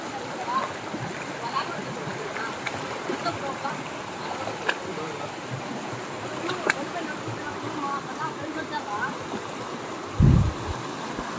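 A rocky stream rushes near the Ramapuram waterfalls during floods near Tirupati, a steady broadband wash of flowing water with scattered clicks and a brief low thump near the end.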